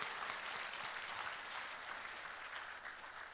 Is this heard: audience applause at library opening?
yes